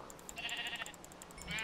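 Sheep bleat in the Minecraft video game, several short, faint, wavering cries over a soft background, heard alone without talk.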